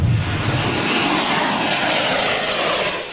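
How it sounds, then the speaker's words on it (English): A U.S. military spy plane on a counter-narcotics mission flies overhead, its steady aircraft engine drone filling the clip with a continuous broadband roar at constant loudness, with no voices. "A U.S. military spy plane is on a mission to catch cocaine-loaded speedboats on this drug trade route."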